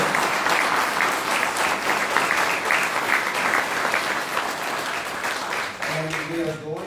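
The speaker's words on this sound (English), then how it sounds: "If I could, round of applause for everybody." A crowd at a Santa Ana candidates forum breaks into loud, sustained applause with dense clapping and crowd noise, easing slightly near the end as a voice begins to speak.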